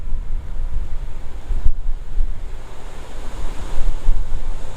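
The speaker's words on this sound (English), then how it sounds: "So it's quite windy." Strong wind buffets the microphone in rough, rumbling gusts, loud and continuous for several seconds, no voices.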